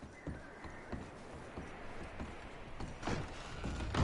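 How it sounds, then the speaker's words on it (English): Horses in the Red Dead Redemption 2 video game shuffle and clop with scattered hoof thuds, gear rattling and soft movement at close range, growing denser and louder toward the end. "I'm going to start packing the horses."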